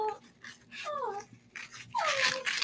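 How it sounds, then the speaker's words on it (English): A dog whimpers close by in a series of high, thin, sliding whines with short breathy pauses, fairly soft and without talk. "My dog."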